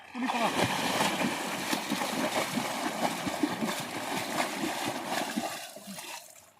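Someone wades through deep floodwater in a cotton field flooded by cloudburst rain, making continuous close sloshing and splashing that stays steady and then fades toward the end.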